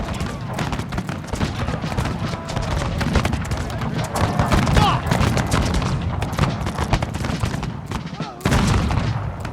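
Infantry volleys and scattered musket fire crackle continuously in a Total War: Fall of the Samurai battle mod set in the 1833 Carlist Wars, dense overlapping shots with galloping hooves and commands shouted underneath.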